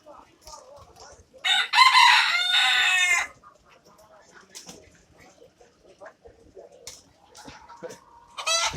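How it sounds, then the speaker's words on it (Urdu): A loud rooster crow rings out near the middle, surrounded by scattered clucks from desi hens and busy bird market background noise. "یہ دیسی مرغیاں آ گئی ہیں یہاں۔"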